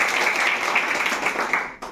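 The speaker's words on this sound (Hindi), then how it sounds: "ताली बजा सकते हैं।" Audience clapping at a rank holders' felicitation event, steady close applause throughout that cuts off abruptly near the end.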